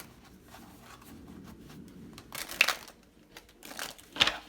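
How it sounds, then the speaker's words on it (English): Tarot cards are shuffled by hand during a card reading, giving soft papery rustling. Two sharper riffling bursts stand out, one midway and one near the end, with no talk. "One more shuffle."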